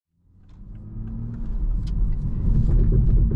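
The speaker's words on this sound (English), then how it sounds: "Let's get it on the road now and see how it drives." A 2024 Toyota Supra drives on the road, its engine and road noise starting abruptly and building into a steady, loud low rumble that grows a little stronger as the car picks up speed.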